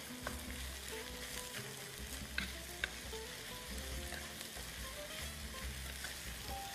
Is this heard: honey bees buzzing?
no